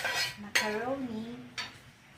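A spoon scrapes and clatters against a metal soup pot while macaroni is mixed into a Filipino sopas, two sharp clinks standing out over a brief moment of soft stirring.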